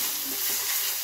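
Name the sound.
oil poured onto spice masala sizzling in a pan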